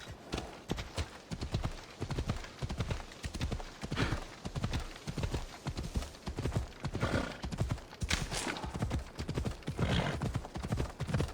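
A horse in Assassin's Creed Odyssey gallops hard, its hooves pounding in a fast, driving rhythm close up, with occasional whinnies and rushing game ambience throughout.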